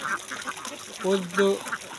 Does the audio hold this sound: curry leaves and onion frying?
no